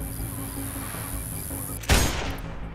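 A sniper rifle shot in the shooter game Sniper Ghost Warrior 2 cracks once near the end, loud and sharp over a low, steady ambient game backdrop, without talk.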